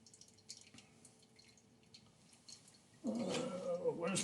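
Liquid pours and splashes through two stacked kitchen strainers, starting abruptly near the end as a loud, steady close stream after quiet drips and faint room noise.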